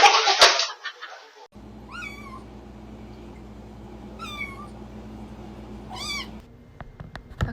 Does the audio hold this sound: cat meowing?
yes